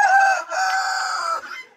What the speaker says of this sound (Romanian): Ia uitați, cocoșul cântă.